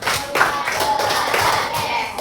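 A classroom group claps in counted bursts during a lesson warm-up, several quick rounds of hand claps close by, fairly even in level.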